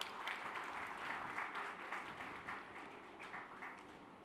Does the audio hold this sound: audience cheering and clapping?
yes